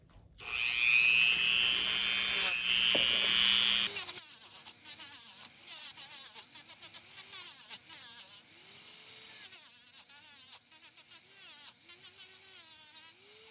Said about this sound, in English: Now I just want to take a flap sander to that.